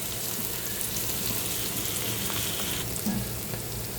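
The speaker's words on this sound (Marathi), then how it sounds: "कांदा छान गोल्डन होईपर्यंत परतून घेऊया." Chopped onion sizzles steadily in a hot pan as it fries toward golden, a dense, even crackle that holds for the whole stretch with no talking.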